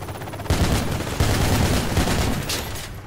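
Gunfire in the Project Reality video game rolls as a dense, continuous volley of overlapping shots, loud and unbroken, with a few sharper surges and no talking.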